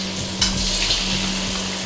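Fish balls sizzle and crackle in hot oil in a wok, a steady close frying hiss with a few stirring scrapes, alone without voices.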